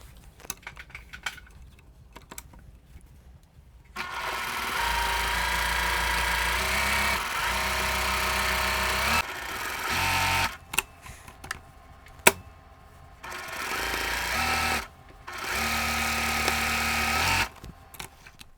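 A sewing machine stitches quilted Christmas table runner blocks, running in several bursts of steady mechanical whirring and rapid needle clatter, separated by short pauses with small clicks and handling noises.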